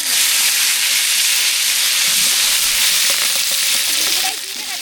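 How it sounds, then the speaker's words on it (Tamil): Mustard seeds, curry leaves and green chillies spluttering in hot oil, a loud dense sizzle with crackling pops throughout that drops off sharply near the end. "பச்சை மிளகா கருவேப்பிலை எல்லாம் நல்லா பொரிஞ்சிருச்சு"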